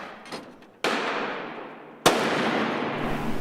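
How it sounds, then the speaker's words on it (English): A non-lethal fragmentary grenade goes off twice in quick succession, each a sharp, loud blast with a long, hissing rumble trailing away; no voices. "That's actually a non-lethal fragmentary grenade"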